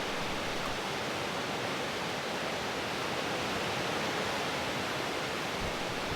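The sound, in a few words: waterfall on the upper Old Man River over sandstone shelves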